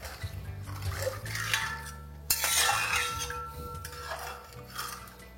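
Chicken pulao with rice and water being stirred in a pot over a medium flame, with metallic spoon scrapes and clinks against the pot, a burst of sloshing midway and a low hum beneath, no speech.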